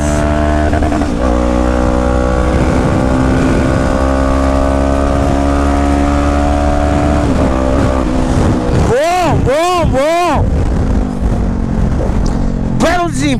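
A Honda 500X motorcycle with a stainless steel 2-into-1 exhaust roars loudly and steadily while riding on a road, with rising and falling revs near the end and a faint passing-vehicle sweep.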